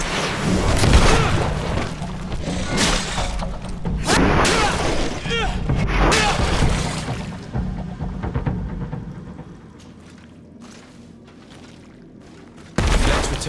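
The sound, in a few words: grenade explosion in the video game GreedFall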